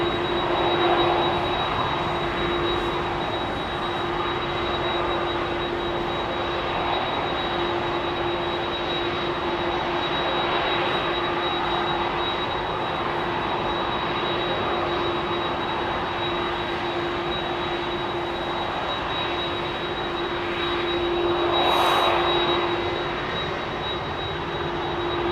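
Jet airliner engines roar steadily at London Heathrow Airport, a constant broad rumble with a persistent whine, swelling slightly near the end, with no talking.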